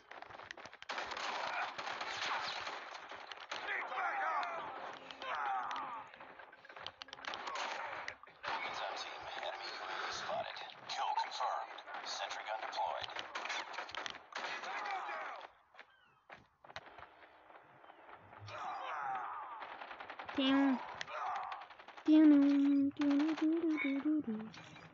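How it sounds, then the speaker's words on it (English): A sentry gun in a Call of Duty multiplayer match fires long rapid automatic bursts, loud and near, with short pauses between volleys and game voice callouts over the later part. "Friendly sentry gun deployed."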